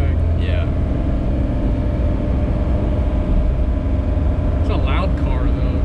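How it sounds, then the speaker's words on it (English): A loud 1954 Ford Customline engine drones steadily throughout, with a constant low rumble and faint voices mixed in beneath the noise. "It's a loud car, though."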